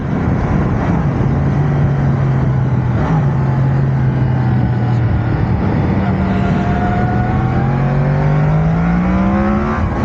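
Yamaha MT-10 motorcycle accelerating hard, a loud, sustained engine roar that climbs steadily in pitch through the gears, heard close and continuous without talk.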